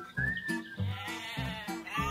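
A sheep bleats several times in a row, loud and close, each call a wavering, nasal cry with short gaps between.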